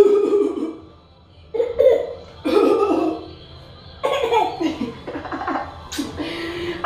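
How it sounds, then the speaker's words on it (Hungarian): A baby gives several short, raspy coughs, some sounding like chuckles, in uneven bursts separated by brief pauses, close by and moderately loud. "Ja, köhögünk?"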